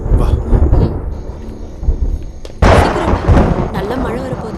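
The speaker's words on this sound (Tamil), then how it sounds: "நல்ல மழை வரப்போகுது. என்ன திடீர்னு மழை?" Thunder rumbles before a sudden downpour, with a low roll early and a louder crack that bursts in midway, then sustained noisy rain-like texture, with voices faintly present.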